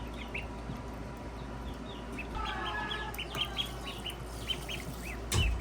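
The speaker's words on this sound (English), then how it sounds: "ducks are disgusting." Young ducklings or ducks in a pen, a busy chorus of high chirps and quacky peeps repeating close by over steady background noise, with a louder burst near the end.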